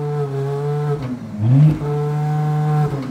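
A Porsche Panamera with a straight-through exhaust pipe revs hard while standing, the engine note climbing to a loud burst and settling back to a steady high idle, close and alone.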